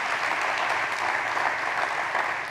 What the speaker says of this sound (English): another big round of applause, please, to this year's award recipients